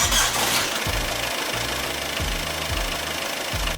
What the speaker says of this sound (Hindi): अब हमें गाड़ी को स्टार्ट करना है और इंजन को हाफ टेम्परेचर तक जाने देना है